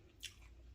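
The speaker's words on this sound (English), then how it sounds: "This is egg rolls, really crunchy." A single crisp bite into a crunchy fried egg roll, one sharp crackle near the mic followed by faint chewing, with no talking.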